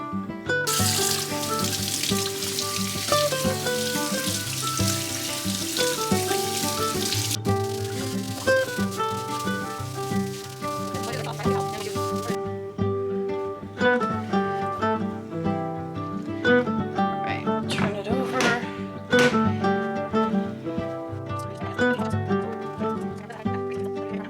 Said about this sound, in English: I'm gonna go ahead and take this over to the sink and start rinsing